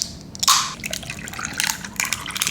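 Coconut water poured into a glass packed with ice, a near splashing gush in short bursts with trickling and dripping between, no talk.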